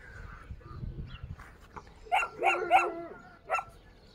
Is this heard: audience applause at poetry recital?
no